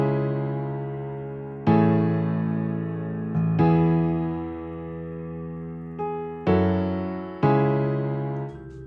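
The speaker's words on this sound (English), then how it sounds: "Adding these notes which repeat the note will then sound like this." Piano chord progression in Logic Pro X with extra repeated notes adding a groove: several sustained chords with short higher notes struck between them, each ringing and fading, clean and alone without talk.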